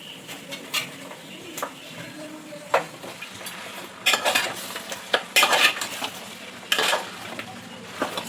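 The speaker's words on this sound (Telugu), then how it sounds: "మొత్తం కలిసేటట్టు చక్కగా నీట్గా కలుపుకోవాలి ఫ్రెండ్స్" A spoon scrapes and clatters in a pan while goat head meat curry with ginger and masala is stirred, in irregular soft scrapes and a few sharper knocks over a faint sizzle.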